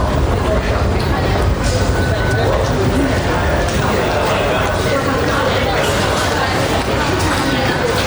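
Dense crowd babble fills a busy underground subway station in Thailand, many overlapping voices and footsteps in a constant, loud wash of noise.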